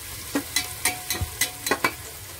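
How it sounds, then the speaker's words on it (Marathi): Chopped onion stirred in hot oil for a Marathi mutton rassa, a spoon scraping the pan in quick repeated strokes over a steady close sizzle, with no voices. "आता आपला कांदा चांगला लाल होईपर्यंत किंवा नरम होईपर्यंत आपण"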